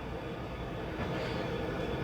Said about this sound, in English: Just then, Thomas the train pulled up.